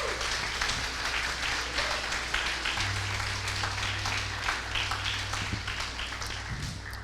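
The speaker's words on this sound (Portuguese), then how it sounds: "Vamos aplaudir a Deus de novo, a Jesus." A church congregation at a Sunday service breaks into sustained applause that fills the room. Its dense clapping carries on evenly for several seconds, with a faint low hum underneath.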